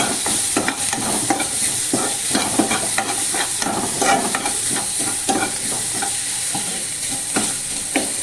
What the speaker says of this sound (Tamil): இது அப்படியே வதங்கட்டும்.